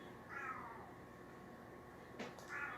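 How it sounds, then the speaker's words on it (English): A cat meows twice, drawn-out and complaining, with a short pause between calls against a quiet background. "you hear my mama kitty, she's mad"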